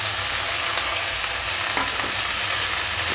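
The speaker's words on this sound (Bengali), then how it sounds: "তেলের মধ্যে একটু সর্ষে তারপরে একটু হলুদ দিয়ে দিলাম" Mustard seeds and turmeric fry in hot oil, giving a steady, loud, close sizzle with faint crackles throughout and no speech.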